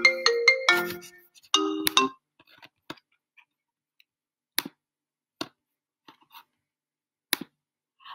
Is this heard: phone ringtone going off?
yes